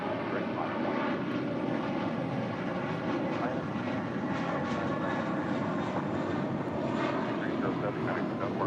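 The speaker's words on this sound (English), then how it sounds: "That was American Airlines Flight 307 heading to, well, somewhere." An American Airlines A321 airliner takes off at LAX, giving a steady, loud, broadband engine roar that holds without a break, with voices talking over it.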